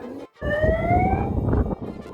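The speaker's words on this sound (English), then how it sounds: "once you hear the siren, it means that the train is near" A loud railway crossing warning siren in Hanoi, Vietnam wails with rising tones for about two seconds, close by and sounding alone, signalling an approaching train.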